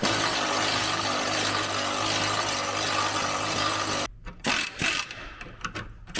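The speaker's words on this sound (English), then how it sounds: "grabbed the MIG welder and he's welding on just a nut." MIG welder welding a nut onto a broken pin during a Ferrari 308 GTS rebuild, a loud, continuous close crackling buzz that cuts off sharply partway through, followed by scattered clanks and handling noises.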